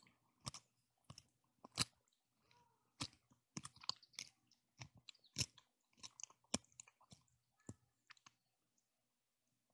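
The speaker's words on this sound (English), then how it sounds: "I'm going to eat some cereal and let's see if you can hear it" Close, crisp crunching of cereal being chewed, irregular bites and clicks scattered over several seconds against near silence.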